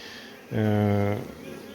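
A single short burst of buzzing from a honey bee flying past at an apiary, lasting under a second against a quiet background.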